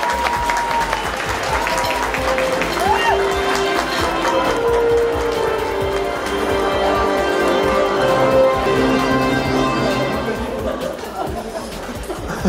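An audience applauds an award presentation at a pop music ceremony, a steady dense wash of clapping with crowd chatter that tapers off near the end.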